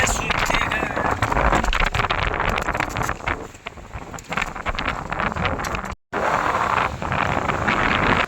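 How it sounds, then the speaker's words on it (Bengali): Strong wind at sea roaring and buffeting the microphone aboard a fishing boat in rough waves on the Bay of Bengal, loud and continuous with one brief dropout. "বাতাসের গর্জন শুনতেই পাচ্ছেন"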